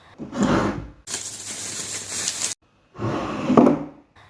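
A bedside drawer slides open and shut in a bedroom, giving three separate bursts of scraping wooden rumble, the middle one longer, heard up close with no speech.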